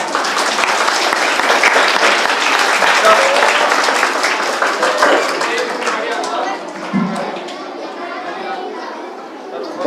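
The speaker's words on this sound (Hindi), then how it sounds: "तालियां बजाएं।" School children in an audience clap loudly together at an Egg Day event held at a school, a dense burst of applause with chatter mixed in, thinning out toward the end as voices take over.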